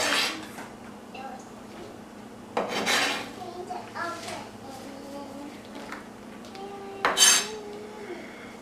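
Chopped onions and celery tipped together into a metal pot for seafood chowder, with close clinks and clatters of utensils against the pot and a few louder knocks, some background hum throughout.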